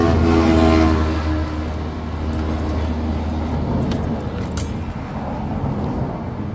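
An RS150 motorcycle engine idles with a steady, deep drone throughout, joined by a few light metallic clinks and rattles nearby; no one speaks.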